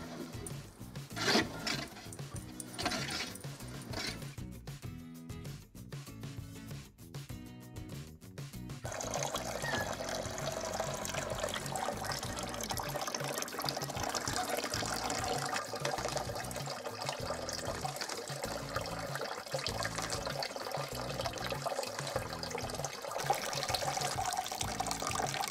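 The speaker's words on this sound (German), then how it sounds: "Und los geht's mit dem Pressen." Homegrown grapes are pressed in a wooden fruit press, giving creaking, rubbing knocks followed by a steady trickling rush of juice flowing for a long stretch, close and fairly quiet.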